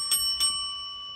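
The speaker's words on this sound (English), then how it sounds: "here's my bell because we have hit the end" A small hand bell rung twice in quick succession, bright close rings that leave a long sustained metallic tone fading out.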